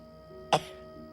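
A single short cough bursts out once against a quiet, faintly humming background, close and fairly loud compared with the surroundings.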